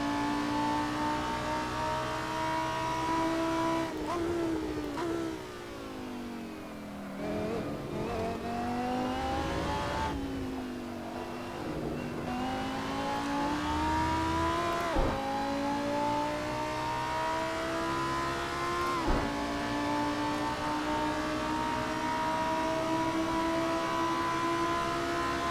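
A Lamborghini Super Trofeo race car engine in the Assetto Corsa video game, lapping Imola: a steady high-revving whine with repeated gear shifts and sweeping pitch drops under braking, loud and continuous with no talk.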